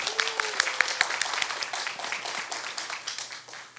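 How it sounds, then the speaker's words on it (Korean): Live concert audience clapping for the staff, a dense round of applause that carries steadily for a few seconds before tapering off. "오늘 함께 해주실 스태프 여러분들께 박수 한번 부탁드리겠습니다."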